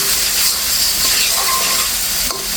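Spice paste and eggplant sizzle and hiss steadily while frying in hot oil in a pan for a Bengali bata fish curry, a loud, close, continuous crackle with a faint clink near the end.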